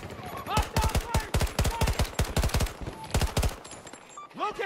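Rapid bursts of automatic gunfire in the Battlefield 2042 multiplayer shooter, loud, close and repeated in quick strings over about four seconds, with brief gaps between volleys and a voice heard near the end.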